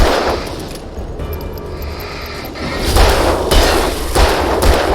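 Heavy gunfire from the video game Alan Wake 2 booms in several loud, punchy bursts over a dark, rumbling ambience, with the shots clustering more densely toward the end.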